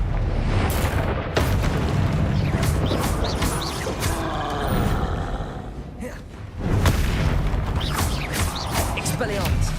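Spell explosions from Confringo in Hogwarts Legacy burst in a dense, continuous stream of booms and crashes during combat, loud throughout, with a voice shouting spell names over the blasts.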